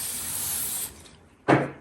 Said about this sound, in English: So I'll spray it a little bit and just kind of wipe it down.